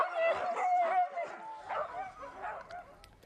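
Sled huskies at a husky training outing bark and yip in a quick, excited run of calls with some whimpering, fairly close and gradually fading toward the end.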